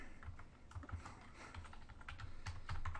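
Rapid keystrokes on a computer keyboard while entering a word into a find-and-replace box, close and steady with irregular clicks and no one talking.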